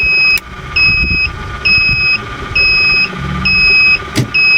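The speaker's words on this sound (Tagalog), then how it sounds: "Ganahin natin yung pump 1" A water pump motor runs steadily in a duplex pump control setup, a loud constant hum broken by short pauses while a control panel beeps a repeating two-tone alert at regular intervals; no talking.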